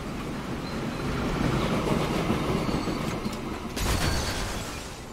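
Train rolling on rails in the Transport Fever 2 video game, a continuous rumbling run with rhythmic wheel clatter and a brief brighter metallic swell near the end, loud and steady with no talk.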